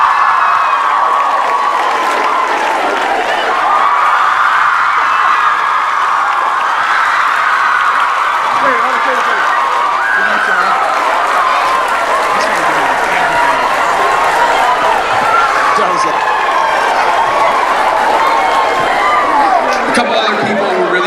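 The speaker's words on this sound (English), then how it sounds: "give her a big, big round of applause" Audience at a school Christmas Carol play applauding and cheering for a cast member, a loud, continuous roar of clapping mixed with chatter and shouts from the crowd.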